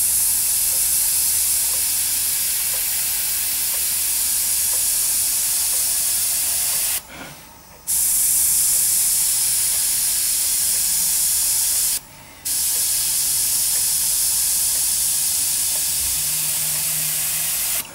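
A Tamiya HG SuperFine airbrush spraying paint between masked lines gives a steady, close, bright hiss that stops briefly twice and starts again. No one speaks.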